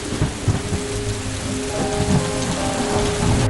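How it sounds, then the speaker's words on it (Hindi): Heavy rain pours steadily in Delhi NCR during a storm with strong winds, a dense continuous hiss with low rumbling underneath, loud and close with no voices. "फिर झमाझम बारिश।"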